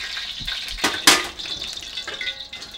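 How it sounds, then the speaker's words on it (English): Oil poured out of a hot pan gives a quick close splash and sizzle burst around the middle, set among light clinks and a soft fading hiss, with no talk. "and we're going to dump it all out."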